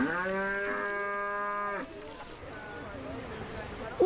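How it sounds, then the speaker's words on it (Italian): Cattle lowing restlessly before the June transhumance in Val Pellice, one long, clear moo close by lasting nearly two seconds, then quieter farm ambience with faint activity and a brief knock at the end. "Vedi che sono più agitate, muggiscono"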